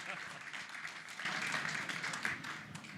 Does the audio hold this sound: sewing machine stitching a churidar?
no